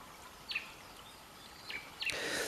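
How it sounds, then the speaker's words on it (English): Birds calling outdoors in a garden, a few short, clear chirps spaced apart over a quiet background hiss, with a brief rustling burst near the end. "Listen to those birds."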